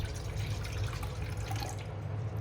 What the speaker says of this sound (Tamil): இப்போ நம்ம எடுத்து வச்சுருக்கிற 1 கிளாஸ் தண்ணியை சேர்த்துக்கலாம்.